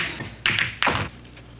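A pool cue strikes a ball in a behind-the-back shot, giving two short, fairly loud taps about a third of a second apart, with a quiet room behind them.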